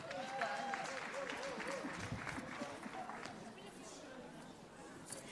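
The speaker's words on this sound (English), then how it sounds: "another round of applause for the bubble lady" Scattered applause from an audience at an agriculture and agro-processing recognition awards event, quiet and somewhat distant, with murmured crowd chatter and a voice over it.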